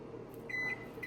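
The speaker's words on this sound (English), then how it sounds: "I actually like to microwave it to where it's melted" A microwave oven hums steadily while melting butter for a sticky toffee pudding cake batter, with short high beeps sounding twice over the low running drone.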